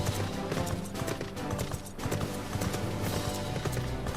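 Horse hooves clip-clopping in Final Fantasy XIV as a mount rides off, steady trotting beats under a busy game music and ambience bed, with a brief whinny possible.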